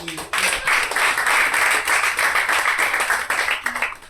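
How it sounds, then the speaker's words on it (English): An audience at a career bootcamp lecture claps after an interactive session, a loud, continuous burst of many hands clapping together for about four seconds with little else heard. "Let's clap for it."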